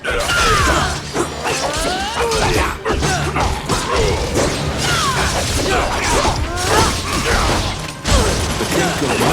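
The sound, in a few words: metal clinking as it hits the ground, from the video game Dragon's Crown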